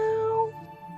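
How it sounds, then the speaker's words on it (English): A single cat meow, clear and tonal, rises and then fades within half a second, followed by quiet low background tone. "following the cat's meow"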